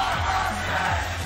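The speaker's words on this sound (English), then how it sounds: "The crowd is turning. They want Armor King to win this one." Tournament crowd at a Tekken 7 Tekken World Tour match roaring and cheering for Armor King, a steady, dense wall of voices sustained throughout the short moment.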